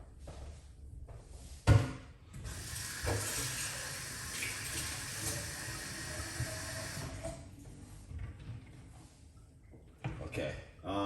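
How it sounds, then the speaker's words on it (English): Tap water runs steadily for several seconds to rinse out a juicer, a soft close hiss bracketed by a knock and some handling clatter, while a person talks over it. "So I'm just gonna rinse out my juicer with a little bit of water."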